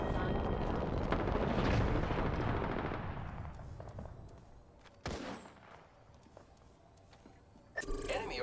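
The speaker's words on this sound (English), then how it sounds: "I am taking fire, friends." Gunfire in Apex Legends, a dense loud burst of rapid automatic shots that trails off, followed by a sharp single crack and another burst near the end.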